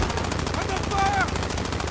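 Automatic gunfire in the video game Call of Duty Warzone, a continuous rapid machine-gun rattle throughout, loud and close, with a brief game voice callout over it.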